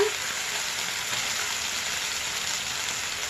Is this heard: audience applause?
no